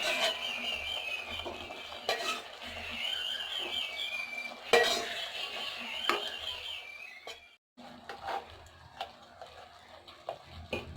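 Egg biryani with fried eggs being stirred in a pot, giving steady scraping and clinking of a spoon against metal with occasional sharper knocks, fairly close and without talk.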